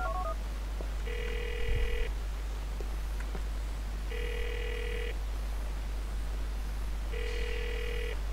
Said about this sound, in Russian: Номер шантажиста. Давайте позвоним ему.